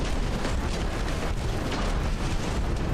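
A heavy torpedo strikes a warship in the naval game Ultimate Admiral: Dreadnoughts, set in 1902, giving a loud, sustained rumbling explosion that fills the whole stretch with dense, roaring noise.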